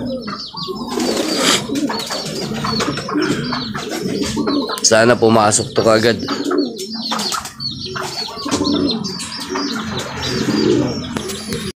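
Racing pigeons coo and flutter close by amid a flock's busy calls during a pigeon fun race, while a person talks intermittently in Filipino over them.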